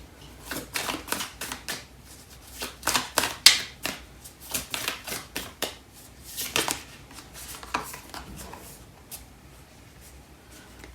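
Tarot and oracle decks, the Light Seers and Lover's Oracle, are shuffled by hand in a quick run of crisp card flicks and riffles, with brief pauses between bursts.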